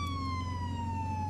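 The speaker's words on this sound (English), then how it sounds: "I'm gonna turn on my sirens just because we're entering into the road." An ambulance siren in the Flashing Lights emergency driving game holds a loud, steady electronic wail with a slowly falling pitch over a low engine rumble, close and continuous without speech.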